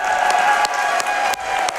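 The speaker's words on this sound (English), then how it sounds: "Can we get some applause for that, audience?" Dense audience applause, a steady wash of many hands clapping at once, sustained throughout with a few brief dips.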